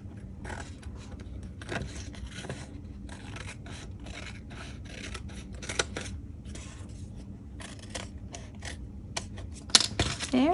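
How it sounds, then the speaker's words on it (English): Scissors snip through cardstock paper while trimming a journal insert, a run of close, dry cutting strokes and rustles at a quiet level. "We'll cut this down."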